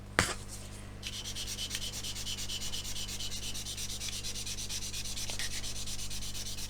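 A blue sponge sander rubs over a super glue and talc filled repair in fast, steady back-and-forth strokes, a close, even scratchy hiss that continues without pause and has no voices.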